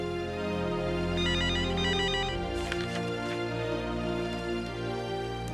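A telephone ringtone plays continuously, bright electronic tones repeating over a drama scene's musical background, with no talking.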